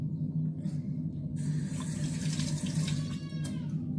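Cold tap water running into a sink while fish is being cleaned, a steady close splashing stream that grows brighter midway, with no talking.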